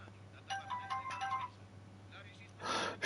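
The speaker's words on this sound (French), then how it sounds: "C'est le téléphone du coloc." A roommate's phone plays a melodic ringtone, faint and a little distant, as a short series of tonal notes with a brief burst of noise near the end.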